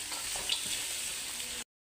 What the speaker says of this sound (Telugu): ఇందులోకి క్యారెట్, బీన్స్, అలానే క్యాప్సికమ్ని కూడా వేసేసుకుందాము. వీటితో పాటు మష్రూమ్ని కూడా వేసేసుకుందామండి. వీటన్నింటిని ఒకసారి బాగా మిక్స్ చేసేసుకుందాం